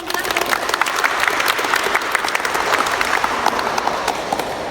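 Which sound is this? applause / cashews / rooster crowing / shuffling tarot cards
applause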